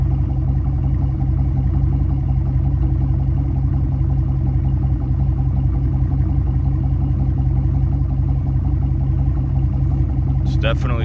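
An F-body car engine idles with a deep, steady, loud rumble throughout, close by, ending in a brief clack.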